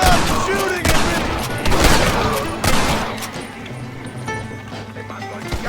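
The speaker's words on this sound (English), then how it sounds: "Stop shooting at me!" Gunfire in the Western video game Red Dead Redemption, loud overlapping volleys of shots with clattering hooves and shouting voices in a dense, chaotic mix that thins out toward the end.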